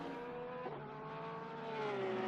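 Race car engines at Bathurst in the racing game Assetto Corsa Competizione, a steady loud droning roar with shifting pitch as the cars run on, no talk.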